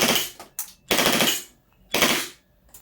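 A WE G35 gas blowback airsoft pistol fires on full auto in two short, loud bursts of rapid cracking shots, with a brief pause and a single quick pop between them. No one speaks.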